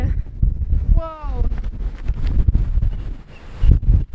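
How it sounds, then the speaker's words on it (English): Strong wind blows on a high spot on the Pembrokeshire coast near an island, with gusty buffeting mixed with a brief voice exclamation and rough microphone rumble. "it's so windy up here."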